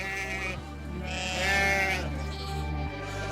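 Sheep bleat on a farm in a steady, fairly loud chorus of overlapping calls, one long cry swelling in the middle, with no talk over it.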